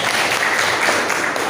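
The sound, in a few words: classroom applause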